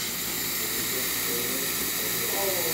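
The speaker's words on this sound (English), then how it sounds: "now we can see the steam coming out of the machine." Steady, loud broadband hiss of steam venting from a Breville espresso machine as its thermal block heats up, continuous and unbroken for the whole stretch with no talking.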